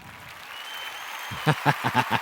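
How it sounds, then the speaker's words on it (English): A short burst of crowd applause rises after a quiet start, with about five distinct clapping swells over a second. "Some applause. I love a good applause."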